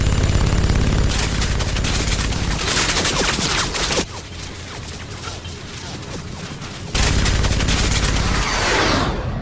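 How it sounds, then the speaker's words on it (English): Loud, dense bursts of rapid gunfire from an English-dubbed anime rattle on almost continuously, dip into a quieter stretch for a few seconds, then surge back at full intensity. "Guns."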